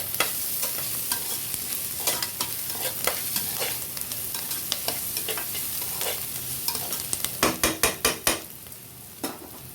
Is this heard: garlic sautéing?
yes